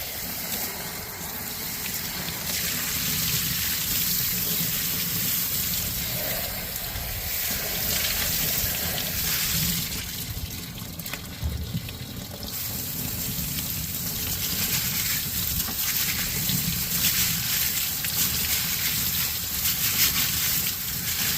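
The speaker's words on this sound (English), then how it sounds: "So I'm giving them a good rinse." Running tap water gushes steadily over tumbled stones being rinsed after the polish stage of rock tumbling, a continuous loud splashing rush with slight shifts in flow and no talking.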